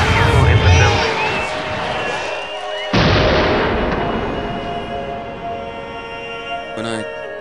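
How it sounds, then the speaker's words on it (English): Big guns fire in a sci-fi battle setting: a heavy boom at the start, then a second sharp blast that decays into a long rumbling tail, with a brief burst near the end. "Open up the big guns now."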